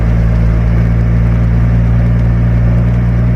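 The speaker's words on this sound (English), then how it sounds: "kind of hear the engine running" A Clark tug plow engine idles close by just after a cold start, a continuous low rumble with a constant hum and no changes in pace.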